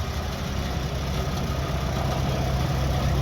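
A 1947 Farmall M tractor idles steadily, a low, continuous engine rumble at moderate distance with an outdoor show wash around it and no voices.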